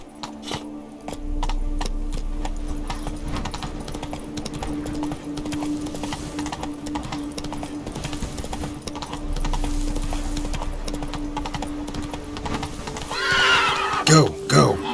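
Geralt's horse Roach in The Witcher 3 galloping with steady hoofbeats and neighing, under ongoing game music and voices, with a louder burst of activity near the end.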